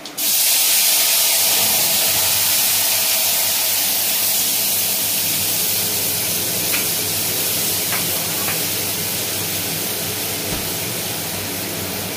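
Tamarind water hitting hot oil tempered with five-spice (panch phoron) for a raw hilsa sour curry, giving a loud, steady sizzling hiss that holds at full strength for the whole stretch, with no talk over it.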